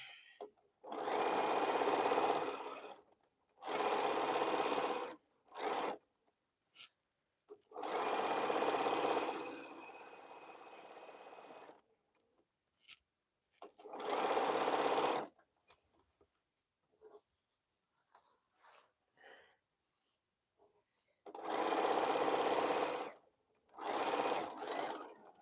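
A sewing machine stitching 1-inch quilt strips runs in several loud, close bursts of steady whirring, each a few seconds long, separated by quiet pauses with small clicks and handling sounds.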